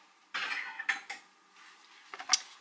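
A teapot lid is lifted off in a kitchen, giving a few close ceramic clinks and scrapes in short bursts separated by near-silence.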